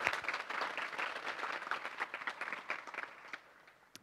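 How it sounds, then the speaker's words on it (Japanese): Applause from a seated audience at the PyCon JP 2017 conference as a talk begins, a fairly quiet, even patter of many hands for about three seconds before it tapers off into silence. "皆さん拍手よろしくお願いします。"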